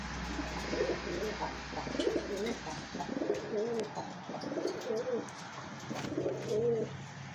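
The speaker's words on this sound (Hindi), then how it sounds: "ये आपको जो मैंने बताया यमनी नस्ल की कबूतरी है, इसको सनानी नस्ल कहते हैं" Yemeni Sanani breed pigeons coo repeatedly in rhythmic, throaty bursts close by, with a low hum running underneath.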